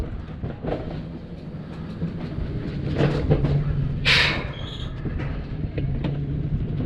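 A Wiegand alpine coaster car on the Mineshaft Coaster rolls along its rails with a steady rumbling, clattering ride noise, a louder stretch midway and a brief high squeal near the middle.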